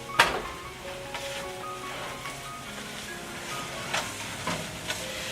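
About a teaspoon of soy sauce hits a hot pan holding a Cornish hen, setting off a soft, steady sizzle with scattered crackles and pops.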